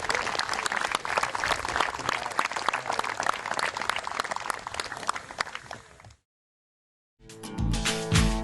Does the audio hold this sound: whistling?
no